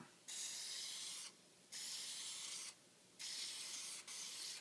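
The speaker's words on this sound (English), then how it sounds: "And we'll spray them out." Three long hissing sprays from a spray bottle of cleaner onto lightly corroded knives, each lasting about a second, close by with brief pauses between.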